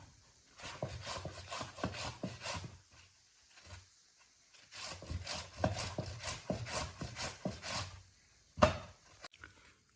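Mango is grated by hand for coconut mango murabba, with rapid rasping strokes in two long bursts separated by a pause, then a single sharp knock near the end, close and clear.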